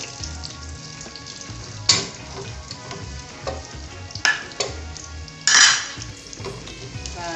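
Onion fries in a pot with a soft, steady sizzle, broken by a few louder stirring scrapes and metallic clanks of utensil on pot, close up with no talking.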